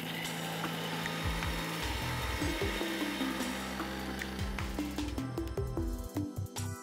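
Blender grinding sliced papaya with its skin and meat marinade ingredients into a smooth paste, a steady whirring motor drone with rattling chopping pulses, fairly faint and continuous throughout.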